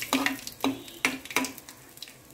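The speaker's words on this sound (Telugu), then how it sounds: "పప్పుల పోపు వేయడానికి ఇట్లా మిర్చి కొంచెం మంచిగా ఫ్రై కావాలి" Dried red chillies frying in hot oil for a dal tempering, with garlic, give off soft crackling sizzles and a few stirring scrapes in a pan, close and fairly quiet, with no talk.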